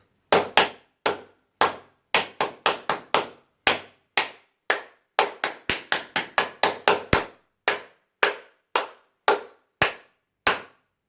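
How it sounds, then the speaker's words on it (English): Bare hands clapping at random intervals during qigong practice: about thirty sharp, loud single claps close by, some bunched quickly together and others spaced out, in an otherwise silent room. "clap until your hands tingle"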